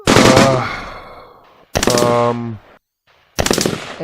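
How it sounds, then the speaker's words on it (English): Three loud bursts of rapid popping crackle, each lasting about a second, separated by short silences, like fireworks going off nearby. "People are setting off fireworks"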